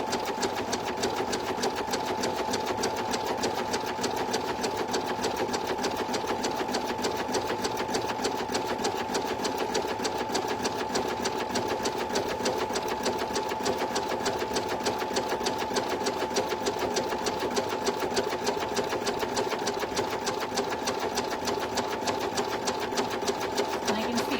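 An embroidery machine runs a satin stitch on vinyl in the hoop, a steady rapid mechanical whir with a fine, even stitching rhythm, close and continuous throughout without talk.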